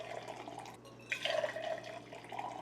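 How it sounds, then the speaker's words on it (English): Hot water at about 175 degrees Fahrenheit poured into insulated tumblers, a faint, brief splash and trickle of liquid filling a cup in a quiet room. "I put 16 ounces of this hot water in each of the 3 tumblers."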